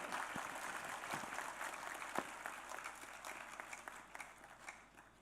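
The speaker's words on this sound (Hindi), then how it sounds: "तालियों की गड़गड़ाहट" Applause from a crowd, a dense patter of many hands clapping that gradually fades toward the end, heard at a moderate distance.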